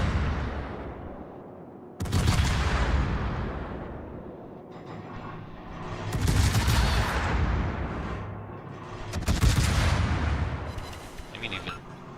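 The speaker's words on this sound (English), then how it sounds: "I know that our gun is firing at them." Main guns of a tier 10 German destroyer firing in a naval battle game, with three heavy booming salvos at about 2, 6 and 9.5 seconds, each trailing off into rumble, while someone talks throughout.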